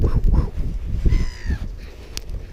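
Crows cawing while being fed crackers in woods, several harsh caws close by, plus a brief bird whistle and a short sharp sound near the end, with no talk.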